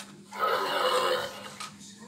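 A horse gives one whinny, a rising and falling neigh of about a second, fairly faint and set against a quiet background.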